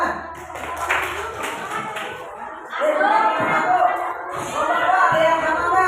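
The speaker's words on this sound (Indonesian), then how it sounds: "Oke, tepuk tangan." Students in a school classroom clap their hands in a brief patter, then voices and chatter take over.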